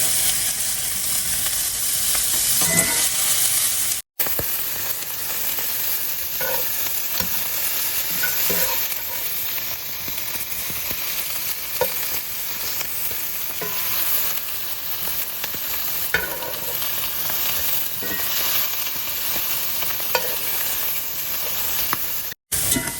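Brussels sprouts sear and sizzle steadily in a hot pan as they are flipped and stirred, a continuous frying hiss with occasional soft scrapes, close and fairly loud throughout.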